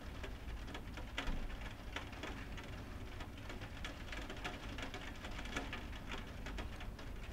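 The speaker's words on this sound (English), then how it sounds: "if you can hear the sound of the rain, through whatever speaker you're listening to this on" Steady rain falls outdoors in a dense, even hiss, with scattered louder drops pattering on surfaces throughout and no voices.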